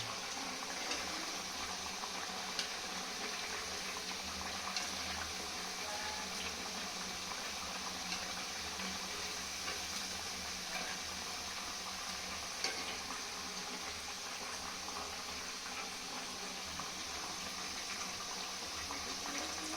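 Liquid bubbling in a pot over a high flame while making anarsa sweets, a steady close simmering hiss with faint bubbling, no voices.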